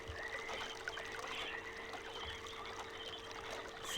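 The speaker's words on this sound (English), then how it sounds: "Now we got flowing water through all these places." Steady rushing water flows through channels in the puzzle world of the Myst video game, a continuous even wash without pauses or talk.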